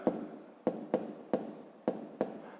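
Pen strokes writing a math expression on paper, six short scratchy bursts in an uneven rhythm, close and quiet.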